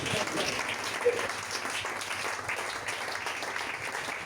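A congregation claps during a church sermon, a moderate sustained round of applause with voices underneath.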